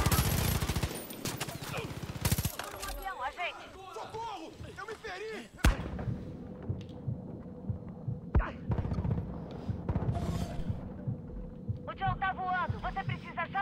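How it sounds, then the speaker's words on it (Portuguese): Machine gun fire in the Far Cry 5 video game crackles in dense bursts amid game effects and music, with a loud boom midway and speech heard throughout. "prefiro a minha metralhadora porque tá um filho de mira"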